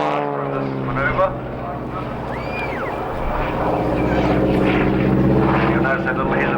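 Aerobatic propeller airplane at an air show at Matamata Airfield, its engine droning and rising and falling in pitch through manoeuvres, heard at a distance beneath a commentator's continuous talk.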